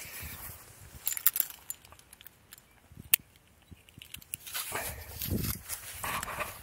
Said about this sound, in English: Let me take that leash off you.